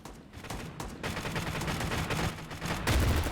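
Rapid bursts of gunfire in the shooter video game Crowz, dense crackling shots in quick succession with a heavier booming blast at the end.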